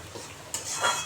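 A spoon stirs spice paste with garlic in a pan for a spicy winter bean dish, making a short metallic scrape and a soft sizzling burst, close and brief.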